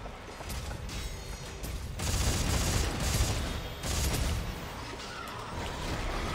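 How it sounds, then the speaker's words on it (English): Weapon reloading in the sci-fi horror game Dead Space 3: mechanical clacks and ratcheting clicks buried in dense, chaotic combat noise with bursts of gunfire, loud and continuous throughout. "Reloading, fuck!"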